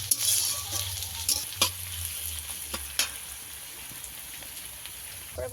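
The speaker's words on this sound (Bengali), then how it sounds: "পেঁয়াজটাকে আমি ভালো করে একটু ভেজে নেব, লাল লাল করে।" Chopped onions sizzle in a small amount of hot oil, a bright continuous frying hiss punctuated by a few sharp scrapes and clacks of a spoon stirring the pan, close up with no talk.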